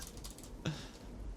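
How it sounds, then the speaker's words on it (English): Quick burst of typing on a computer keyboard, light clicky keystrokes close by with one sharper clack midway, over a faint steady background hum. "Look at the response rate on this keyboard."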